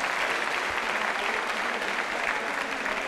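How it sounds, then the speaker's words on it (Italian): A school evening performance audience gives sustained applause, dense and even clapping from a full room that holds at a steady level throughout with no break. "Ripetiamo un applauso più forte però, Pure voi, applaudiamoci da soli"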